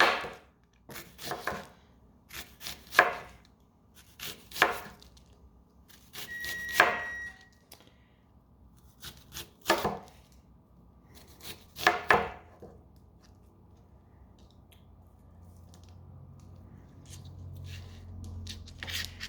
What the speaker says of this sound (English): Alright, so I'm going to cut up some onion.